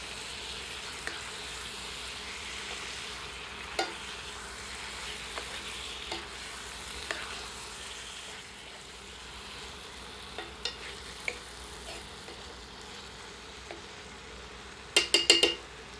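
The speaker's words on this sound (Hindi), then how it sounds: "अब इसमें ग्रिल्ड चिकन ऐड करते हैं। इसे मसाले में अच्छी तरह मिलाते हैं।" Grilled chicken stirred into masala in a pan for a dry, spicy sukha chicken, heard as a soft, steady sizzle with occasional light spatula taps and a short burst of metal clatter near the end.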